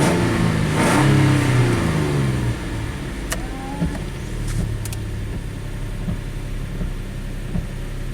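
A Nissan Xterra engine idles steadily after a crank no-start repair on a returnless fuel system, a mid-pitched running hum that briefly swells then settles, with a few faint clicks and clanks nearby and no talk.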